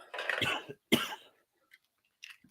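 Two rough coughs close up, the second sharper, followed by quiet throat clearing and a few faint small noises.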